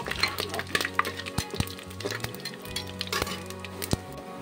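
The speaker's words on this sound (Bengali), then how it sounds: "ভেজে নেব।" Whole spices, cardamom, star anise and bay leaves, frying in oil in a pan for Rajasthani mutton curry, with soft crackling, light clinks of a spoon against the vessel and quiet stirring, close and fairly faint.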